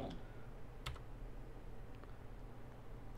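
Faint computer-keyboard typing, a few sparse clicks over a steady low room hum, quiet and close, with no talk.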